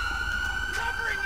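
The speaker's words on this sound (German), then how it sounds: "die Sirene ausschalten." A steady electronic police siren wails continuously, loud and close, with a faint hum beneath it, from a Raleigh police car in GTA 5 with the LSPDFR mod.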